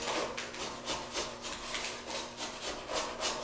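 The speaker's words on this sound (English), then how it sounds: "Now it becomes easier to take my putty knife and scrape along there." A putty knife scrapes back and forth along a bullnose drywall corner, a steady rhythmic rasping of roughly eight strokes, close and fairly loud with no talk.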